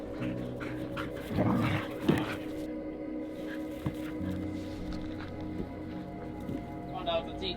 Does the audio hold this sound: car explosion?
no